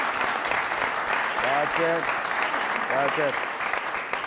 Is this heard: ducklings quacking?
no